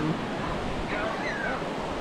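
Sea waves wash up on a beach as a steady broad rush mixed with wind, with people talking faintly over it.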